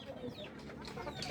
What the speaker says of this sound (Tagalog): Asan ang kay Lito sisiw